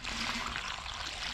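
Leftover liquid poured from a watering can into a mole hole in a garden, a steady splashing stream that runs close and continuous for the whole moment.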